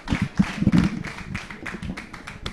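Scattered clapping from an audience at a pool tournament final, a thin irregular patter of hands for the captain, fairly close and modest in volume with no voices over it.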